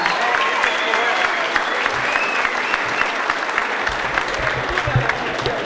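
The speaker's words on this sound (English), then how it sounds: "big round of applause once again for both fighters for a fantastic night" A large audience at a kickboxing event applauds both fighters, steady dense clapping with crowd noise and some cheering across the whole stretch, loud and continuous.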